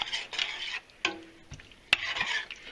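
Turkey gravy is stirred in a pan in short scraping strokes, with two sharp knocks of the utensil against the pan and a faint sizzle between strokes.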